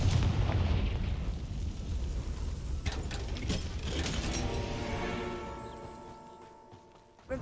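A Confringo blasting spell explodes in Hogwarts Legacy, starting with a loud booming burst that breaks into crackling debris and rumbling, then tails off into fading rattles and a ringing decay.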